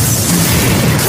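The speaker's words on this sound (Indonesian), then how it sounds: "Anak buah Grace memasang bom di pintu kereta dan terjadilah ledakan" A bomb planted on a train door detonates in the action film SAS: Red Notice, a loud, sustained blast with dense rumbling noise and no gaps.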